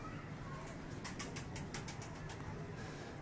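Rapid bursts of wing flapping from Cheena breed pigeons, a quick series of fluttering beats over a quiet, noisy background.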